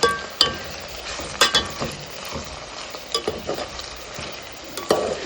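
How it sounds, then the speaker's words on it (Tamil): Tomatoes are sautéed and stirred in a pan for green pea pulao, with sharp spatula knocks and scrapes against the pan over a soft, low sizzle. "தக்காளியை போட்டு நல்லா வதக்குங்க இன்னும் நல்லா வதங்கணும்"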